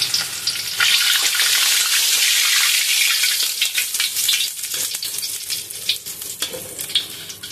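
Hilsa fish fry in a pan with a steady, loud oily sizzle and crackle that eases slightly over time, close up with no talk.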